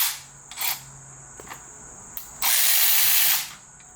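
A ratchet wrench works a 17 mm bolt loose from a car mount on a Civic Type R, giving short ratcheting bursts followed by a longer sustained ratchet run, close and fairly loud, with no talking.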